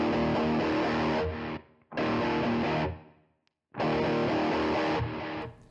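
Boosted, distorted electric guitar with added delay from a Fractal FM3 modeler rings out in three loud chord bursts separated by short pauses, each sustaining then trailing off.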